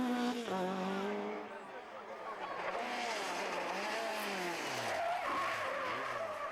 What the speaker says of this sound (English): this spin proves costly for Adrian Hetherington